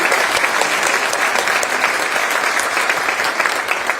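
Applause from students at a university address fills several seconds with steady, dense clapping, loud and near, with no speech over it.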